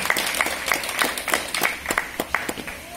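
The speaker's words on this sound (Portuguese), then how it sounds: "A doutora Rosilene Barbosa Martins, uma salva de palmas" Applause at a graduation ceremony for psychoanalysis and human rights defender classes: a modest crowd clapping steadily, with individual sharp claps standing out in an irregular rhythm, fairly near and moderately loud, with no talking.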